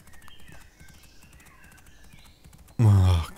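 Horse hooves clip-clop rhythmically in the video game Abenteuer auf dem Reiterhof 3, a steady galloping patter under faint game ambience before a loud burst of another sound cuts in near the end.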